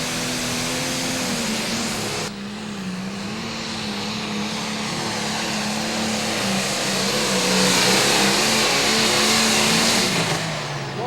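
A John Deere 8410 Series pulling tractor, built on a 466 cubic inch block bored out to almost 680 cubic inches, roars under load with a sustained, wavering engine drone that swells louder near the end.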